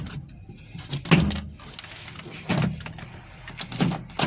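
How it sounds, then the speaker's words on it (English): Plastic retaining clips on a Honda Civic door panel pop loose as the panel is pulled off, giving a few sharp, close clicks and snaps spaced apart, with handling rustle between them. "you pull back the door panel towards you. There will be a few clicks as before."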